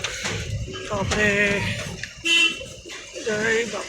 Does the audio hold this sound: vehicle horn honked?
yes